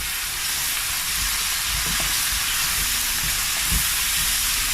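Fresh tomato added to a pan of frying lamb curry, giving a loud, steady, close sizzling hiss that stays even throughout, with faint stirring knocks underneath.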